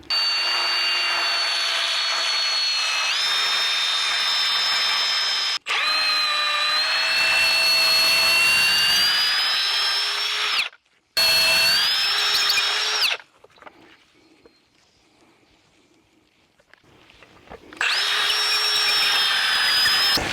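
A power drill fitted with a tree fort install bit bores into a tree trunk for a backyard treehouse, a loud steady whine running in long bursts with a short stop, then a quiet pause before the drilling resumes.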